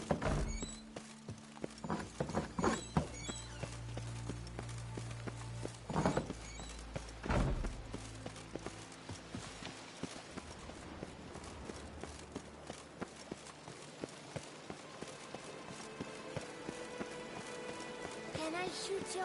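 Roach the horse's hooves clip-clopping in a video game, with heavy thuds early on and then a steady run of light rhythmic hoof steps, while a person talks over the game sounds.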